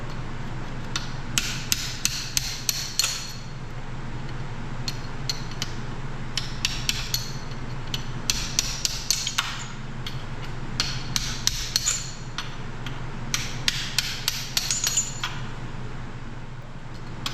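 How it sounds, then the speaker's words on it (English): Connecting rod bolts being hammered out of a Detroit 4-53 diesel engine during teardown, sharp metallic hammer strikes in quick bursts of several blows separated by short pauses, close and fairly loud over faint background hum. "I'm just driving the connecting rod bolts out so they don't damage the crank"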